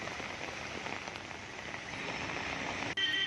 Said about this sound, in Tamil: தூத்துக்குடி மாவட்டம் கோவில்பட்டி நகரில் பலத்த மழை பெய்து வருகிறது.